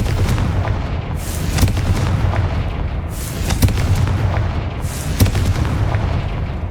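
Confringo blasting spells explode in Hogwarts Legacy as a series of loud, booming blasts, several sharp impacts over a steady rumble of game sound, with no talking.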